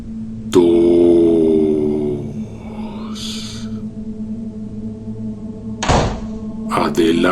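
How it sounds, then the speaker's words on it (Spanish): A door slams with a sharp thunk, followed later by another heavy bang, set against a steady low hum and drone in a quiet, eerie scene. "azotó la puerta"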